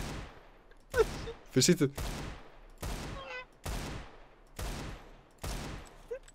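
Gunfire in Counter-Strike: Global Offensive: a series of loud, sharp shots spaced roughly evenly, each with a short decay, with voices talking between and over them.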